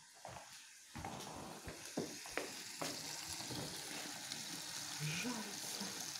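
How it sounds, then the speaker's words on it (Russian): Potatoes sizzling and crackling in a frying pan, steady and close, with a few clatters and scrapes of a utensil near the start. "Картошечка жарится."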